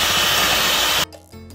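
A handheld electric mixer beats cornbread batter containing salt, baking powder and baking soda, giving a steady loud whir that suddenly cuts out near the end, leaving quieter motor tones.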